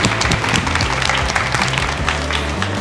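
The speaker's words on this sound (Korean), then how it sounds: "박수!" A crowd applauds after a woman completes a pull-up challenge, with loud, dense clapping close by that runs continuously and unbroken throughout.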